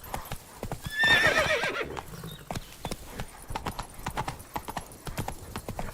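Roach the horse from The Witcher 3 galloping, with steady rapid hoofbeats throughout and a loud whinny near the start, all fairly close.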